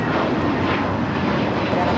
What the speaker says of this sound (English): 867 taking off to Orlando, Florida on the A321neo